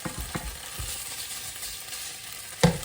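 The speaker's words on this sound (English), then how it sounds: "that's your curry paste, which has got to be fried off" Curry paste fries in a pan with a steady, close hiss and crackle, broken by a few soft stirring knocks and a sharper clatter near the end.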